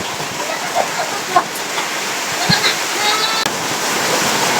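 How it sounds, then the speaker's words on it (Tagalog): Steady dense hiss of heavy rain pouring down in cold weather, with scattered louder taps and splashes over the constant wash. "Sobrang lakas ang ulan."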